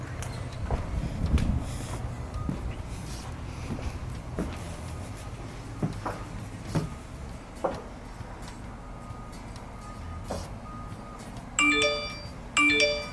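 Eufy wired and battery-powered video doorbell motion alert notifications heard in a quiet room: faint clicks and taps, then two short bright chime tones near the end.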